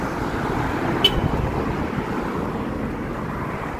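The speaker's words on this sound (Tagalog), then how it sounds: "Traffic." Steady road traffic on a hot, breezy city street lined with buildings: a continuous, moderately loud rumble with a brief, sharper passing noise near the start and no talk.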